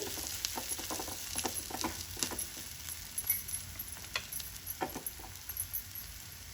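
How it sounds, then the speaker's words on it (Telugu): Fenugreek leaf chutney simmers in oil in a pan, giving a soft continuous sizzle broken by irregular small pops and crackles, close but fairly quiet, with no voices. "ఒక ఐదు నిమిషాలు నూనెలో మగ్గనివ్వాలండి పచ్చడిని"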